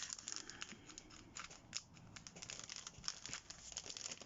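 Small scissors snip and trim lace for a bag topper at close range, producing quick repeated crisp cuts mixed with light crinkling of material.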